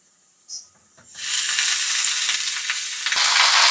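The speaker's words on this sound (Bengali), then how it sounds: "এবার আমি এর মধ্যে দিয়ে দেব হেলেঞ্চার শাকটা" Helencha greens, washed and drained, tossed into potatoes frying in oil; a quiet moment with a small clink gives way to a sudden loud, sustained sizzle that carries on steadily with faint stirring.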